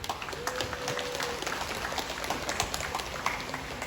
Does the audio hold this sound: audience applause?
yes